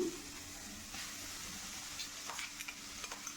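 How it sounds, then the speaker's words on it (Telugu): Garlic paste fries faintly in tempering oil for a tomato pickle: a low, steady sizzle with a few soft, scattered crackles and taps toward the end. "ఇప్పుడు ఇందులోకి వెల్లుల్లిపాయ పేస్ట్ కూడా వేసేసాను"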